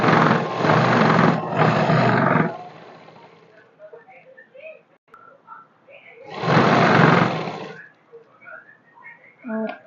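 Sewing machine stitching a salwar in two bursts, a loud whirring run of about two and a half seconds, a pause, then a second run, with soft handling noises between.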